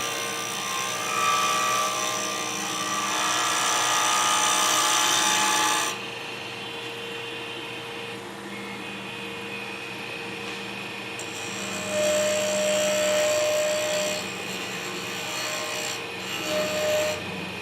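A wood lathe spinning fast while turning a cholla and resin pen blank, a loud whirring hum with high tonal whine that drops when the tool eases off, then returns in bursts.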